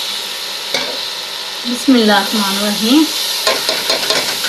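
Washed fenugreek leaves go into frying masala, setting off a loud, steady sizzle with stirring scrapes in the pan; a short spoken phrase cuts in over the frying partway through.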